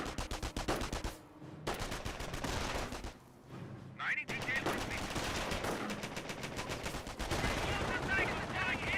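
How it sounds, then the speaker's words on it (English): An MG42 machine gun lays down suppressing fire in the World War II strategy game Company of Heroes, loud rapid bursts of automatic gunfire with short pauses between them, layered with other battlefield shots. "We do have the right squad being suppressed by the MG42."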